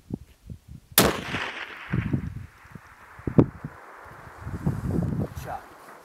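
A single sharp sniper rifle shot cracks out near the start, followed by rustling, handling noises and muffled movement around the shooter.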